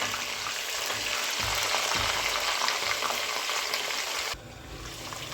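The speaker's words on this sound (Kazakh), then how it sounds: "Етті қып-қызыл қылып қуырып аламыз." Meat and onions fry together in a pot for Kazakh palau, a steady loud sizzle with soft stirring thumps underneath, easing to a lower hiss near the end.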